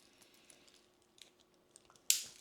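A titanium strap snapping into place on a Galaxy Watch Ultra, heard as one sharp, close click near the end after a stretch of faint handling ticks, with no talking.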